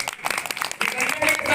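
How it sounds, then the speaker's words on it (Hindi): An audience claps in a dense, steady burst at a Kasera community Guru Nanak Jayanti gathering in Sasaram, with a voice calling out over the applause. "ताली बजाइए, ताली बजाइए।"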